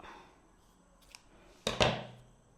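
Scissors snip through crochet yarn at a ruffle crochet dress, giving a faint click followed by a sharper, louder double snip near the end, close by with no talking.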